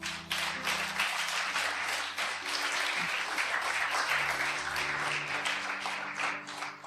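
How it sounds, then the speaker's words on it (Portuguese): A church congregation applauds loudly for Christ, with dense, sustained clapping throughout and organ or keyboard chords playing beneath. "Então aplauda Cristo bem forte."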